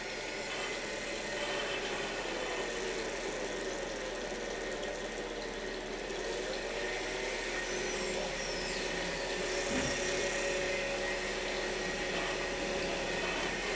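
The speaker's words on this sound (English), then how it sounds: "we can light the boiler." A brewery boiler's gas burner, lit beneath the copper holding wort, roars with a steady broadband rush that holds constant throughout.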